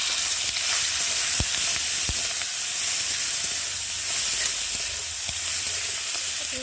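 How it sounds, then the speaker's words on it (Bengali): Prawns coated in salt and turmeric fry in hot oil in a kadai, giving a loud continuous close sizzle and hiss with occasional stirring knocks. "এখন আমি নুন হলুদ মেখে রাখা চিংড়ি মাছটাকে দিয়ে ভালো করে ভেজে নেব।"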